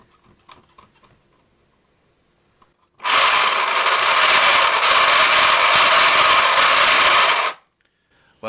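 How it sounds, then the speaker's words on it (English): A 3D-printed air raid siren is cranked by hand, its plastic gears grinding out a loud, rough, steady whir for about four and a half seconds after faint handling clicks, then stopping abruptly. "the gears aren't very quiet on this, but that's okay. It's all 3D printed."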